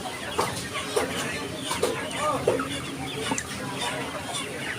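Chickens cluck and squawk repeatedly at a busy poultry market selling layer, Sonali and Pakistani breeds, close and fairly loud over a constant crowd murmur with voices talking.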